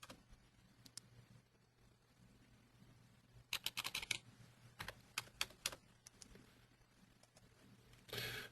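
Computer keyboard typing while entering filter values into a spreadsheet: scattered single keystrokes early on, then a quicker burst of clicks in the middle and a few more taps later, faint and close in a quiet room.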